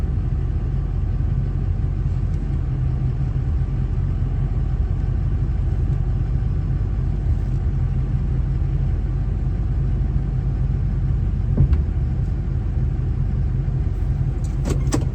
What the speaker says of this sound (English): The truck drives a lot better than it did before with the blown shocks.